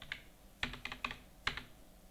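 Several quick keystrokes click on a computer keyboard as a cheque number is typed into accounting software, coming in short irregular taps in a quiet room.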